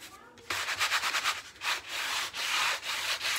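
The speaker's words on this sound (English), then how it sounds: "I'm just sanding it down till it gets smooth" Hand sanding with 220 grit sandpaper on a canvas tote bag: loud, close rasping strokes in a steady back-and-forth rhythm, each rub a bright scratchy burst with short pauses between.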